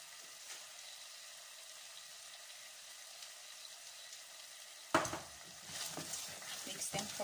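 Faint steady sizzle of food cooking in a pan, then at about five seconds a sharp clack as tomato paste is stirred in, followed by louder scraping and stirring, up close.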